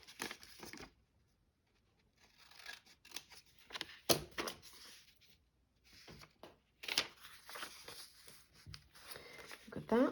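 Scissors snip through material along a line scored with a fingernail, giving a series of close, crisp cuts in uneven bursts with short pauses and soft rustling between them.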